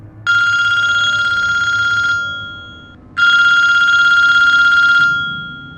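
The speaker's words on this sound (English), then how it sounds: "He was just about to go to bed when the phone started ringing again." A telephone bell rings twice, each long electronic trill lasting about two seconds with a short pause between, loud and close.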